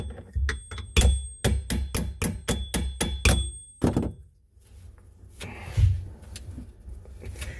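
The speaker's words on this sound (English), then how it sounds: "we're going to tap it with a hammer" Sharp, ringing hammer taps on metal in quick succession, close by, pushing out parts while removing the pump from a 1996 Volkswagen GTI, followed by a few scattered knocks and quieter handling.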